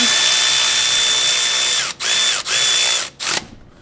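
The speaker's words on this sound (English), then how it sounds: "Now go ahead and spin the bolts in" A power tool whirs steadily as it spins brake caliper mounting bolts into a first-generation Toyota Tacoma during a brake pad and rotor job, the loud drone broken by several short pauses and restarts before it stops.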